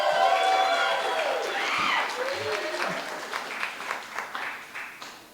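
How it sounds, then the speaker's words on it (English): Applause and cheering rise after a voice trails off, then settle into scattered claps from a small crowd. "would you please give them a round of applause?"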